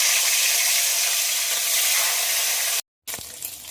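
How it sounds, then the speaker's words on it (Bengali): Fish pieces hit hot oil in a pan with a loud, steady sizzle that runs close and unbroken, cuts out briefly near the end, then returns with light clattering. "তেল গরম হয়ে গেছে, এবার মাছগুলো ছেড়ে দেবো।"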